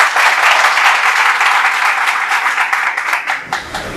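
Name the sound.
students applauding loudly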